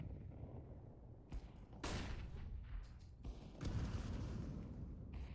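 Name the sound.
flashbang grenade thrown and exploding in a video game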